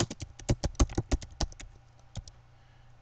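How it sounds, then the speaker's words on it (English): Keys on a computer keyboard are typed in a quick run of sharp, close clicks, then a few sparser taps as the typing slows and pauses. "You can add additional lines to the file by typing the additional information."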